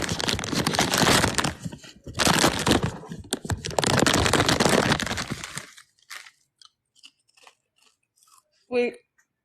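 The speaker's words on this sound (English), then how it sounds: "Sweet potato chips with sea salt." Sweet potato chips with sea salt are chewed close to the mic, dense loud crunching bursts in quick rhythmic runs over several seconds, then a few faint crackles and one last short crunch.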